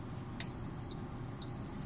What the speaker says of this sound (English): it's going to beep like that.